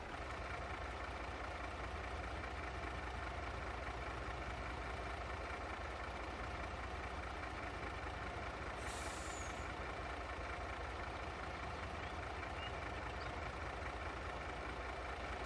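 A skid steer idles in Farming Simulator 22 with a steady, low diesel rumble and constant mechanical hum, unchanging and close, with no voices.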